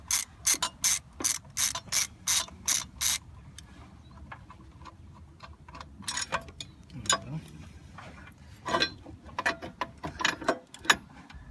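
A ratchet wrench loosens the top alternator bracket bolt on a 2003 Ford Mustang SVT Cobra with the 4.6L engine, first in a quick run of about nine close, loud clicking strokes, then scattered irregular ratchet clicks and tool clatter.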